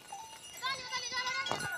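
Goats bleat on a rural farm, giving short, wavering calls fairly close by against faint background noise.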